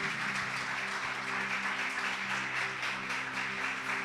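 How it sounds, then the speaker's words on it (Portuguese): Worshippers at an evangelical church service applaud in a continuous, even wash of clapping, moderately loud, with steady sustained musical tones humming underneath. "Agora aplauda o Senhor, vai, se você pode, tem motivo."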